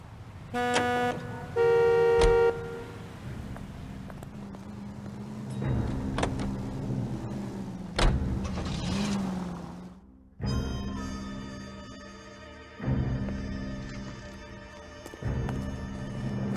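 Car sounds from the L.A. Noire video game: a steady low engine drone runs underneath, broken by several sharp horn toots and short electric whines near the start, then clipped mechanical bursts; no speech.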